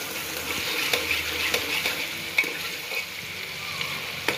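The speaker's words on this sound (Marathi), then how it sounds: "तेल गरम झालेलं आहे. आपण त्यात आता कांदा टाकलेला आहे." Finely chopped onion fries in hot oil, a large batch sizzling continuously up close while a utensil stirs and taps the pan at intervals.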